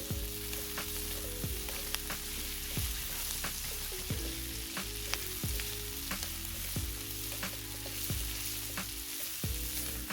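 Breakfast potatoes fry in melted butter with rosemary and thyme, a loud, steady sizzle close by, broken by repeated scraping stirs and clinks of a utensil against the pan.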